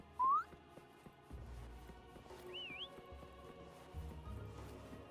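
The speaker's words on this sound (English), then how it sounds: "Try whistling." A short rising whistle is heard in Genshin Impact, then later a wavering whistled tune, both faint over low background noise and quiet game sounds.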